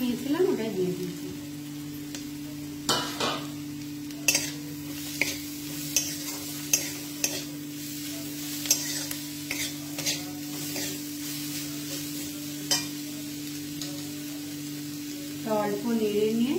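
Small capsicum pieces sizzling in hot oil in a pan, with a steady frying hiss broken by sharp clinks and scrapes of a spatula stirring against the metal every second or so.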